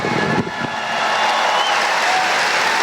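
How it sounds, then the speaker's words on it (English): A large crowd at a Donald Trump rally in Kissimmee, Florida applauds loudly, a continuous roar of clapping with cheering mixed in, heard from within the arena. "Dina DeCamp, everybody, let's give her a big round of applause."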